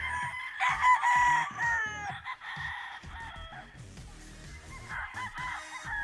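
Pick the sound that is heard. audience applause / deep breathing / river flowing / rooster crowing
rooster crowing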